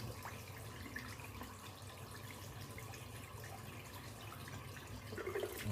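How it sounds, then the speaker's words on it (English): Hot water running from a bathroom tap into a sink during a head shave, a faint continuous splashing wash with a slight rise at the end. "Just let the hot water come through again."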